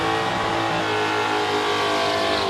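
A Toyota Supra drag racing car making a pass at Warwick Dragway, its engine a loud, sustained roar with a slowly shifting pitch that fills the whole clip.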